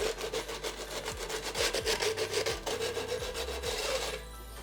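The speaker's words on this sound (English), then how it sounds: "Once it's dry, use a nail file and quickly buff out the edges." A nail file buffs the edges of a tin for a rustic patina plant hanger. The quick, close rasping strokes repeat rhythmically for about four seconds before stopping.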